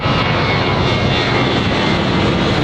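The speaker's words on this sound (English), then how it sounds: "I'm told that's the Point Loma pause. Every 2 minutes an airplane flies overhead." An airplane passes overhead at Point Loma, a loud, steady broadband engine roar that fills the whole stretch without letup, with no talk over it.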